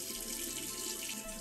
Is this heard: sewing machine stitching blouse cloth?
no